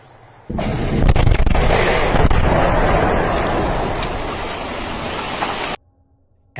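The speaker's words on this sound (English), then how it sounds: "a loud explosion echoed in the distance, followed by a massive plume of smoke rising into the sky" A loud explosion rolls out as a sustained broadband roar lasting several seconds, heard from a fishing trip out on calm water before it cuts off abruptly.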